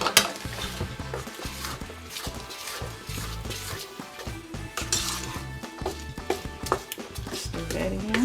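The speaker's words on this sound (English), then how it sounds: "Stir that in." Cornbread batter made with buttermilk being stirred by hand in a bowl, spoon scraping and clinking against the sides in a steady rhythm amid kitchen clatter, close and moderately loud.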